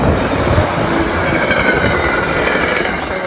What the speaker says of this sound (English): the Darien Times also sent us a video of a Metro North train in the snow